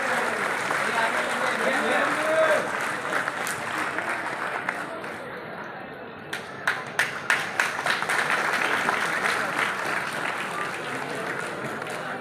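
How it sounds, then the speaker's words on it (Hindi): Sustained applause from a large crowd at a political party meeting in India, steady and fairly loud throughout, with a few sharper claps standing out near the end. "आप सभी से आग्रह है कि जोरदार तालियों के साथ स्वागत करें"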